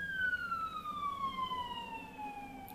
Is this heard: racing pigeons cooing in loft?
no